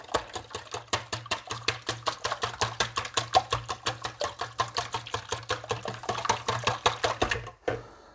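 A fast, regular mechanical chugging of an electric mixer mashing bananas, whirring in quick rhythmic pulses, running steadily for several seconds before stopping abruptly.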